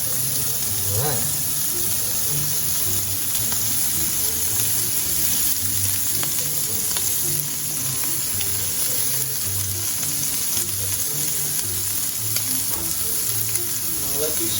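Blackened shrimp frying in a hot pan, a loud continuous sizzle with steady crackling that holds at full level throughout, with faint low knocks underneath.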